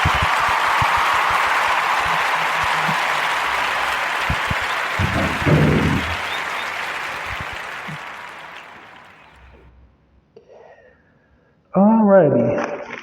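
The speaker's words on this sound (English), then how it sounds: "we're going to give a Warm Narrative podcast round of applause for Paul Renee" Podcast audience applause, a broad wash of clapping that carries steadily for about nine seconds before thinning out, followed by a short burst of voice at the end.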